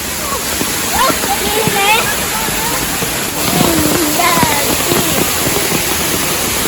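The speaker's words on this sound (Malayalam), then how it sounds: "ഇതാണ് അളകാപുരി വെള്ളച്ചാട്ടം" Steady roaring rush of the Alakapuri waterfall at Kanjirakolly fills the clip, loud and constant, while people talk over it.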